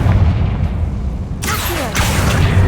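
In Hogwarts Legacy, a Confringo fire spell goes off as a sudden, loud whooshing blast over a constant low rumble, with a burst of crackling hiss midway that carries on to the end.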